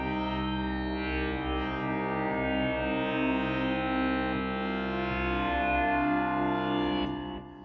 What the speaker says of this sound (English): play around with the FM sounds and sort of get sort of an Echo the Dolphin sound